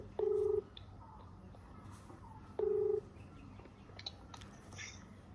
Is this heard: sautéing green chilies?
no